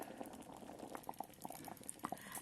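Soupy oats with extra water cooking inside an electric kettle, a faint bubbling simmer with small irregular pops and patter, quiet and close.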